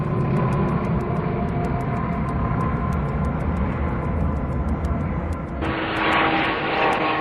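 Steady loud propeller aircraft drone with a constant engine hum and a fixed rhythmic blade pulse, unbroken for the whole stretch, shifting brighter and harsher near the end, with no talk.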